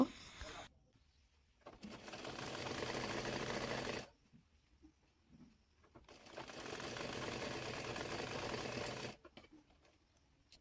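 Sewing machine stitching hijab fabric down to the bottom edge, two close runs of fast, steady mechanical chatter separated by a quiet pause with faint rustling.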